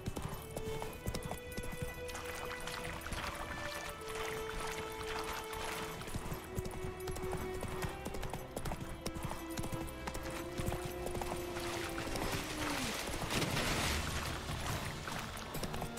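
Roach, Geralt's horse in the game The Witcher 3: Wild Hunt, clip-clops in a steady rhythmic trot, hoofbeats close and continuous over ambient game sound and a lingering tonal hum.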